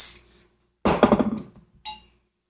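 Two short aerosol bursts: a longer spray lasting under a second, then a brief second puff, close by with quiet gaps around them.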